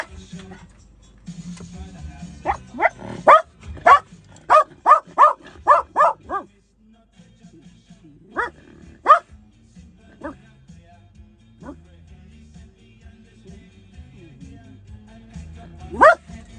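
A dog barks in sharp, loud bursts, first in a quick run of about ten barks, then a few scattered barks, with low rumbling growls and background noise in between.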